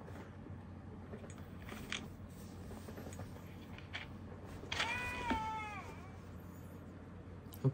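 A video game cat lets out a drawn-out meow with a falling, wavering pitch midway through, standing clearly above a steady low background hum.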